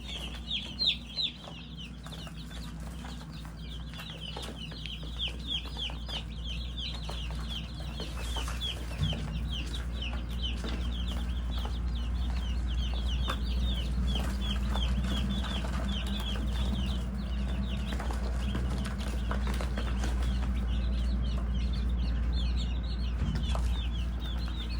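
Baby chicks cheep in a coop edged with a tarp, a continuous flock of thin, high peeps layered over a low steady hum, with no voices.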